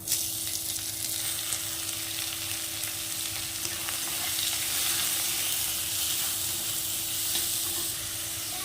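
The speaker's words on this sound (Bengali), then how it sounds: "এবার পেঁয়াজ কুচিগুলো দিয়ে দেবো।" Chopped onions frying in oil with cumin seeds and bay leaf give a continuous, close, moderately loud sizzle and crackle, with no talking.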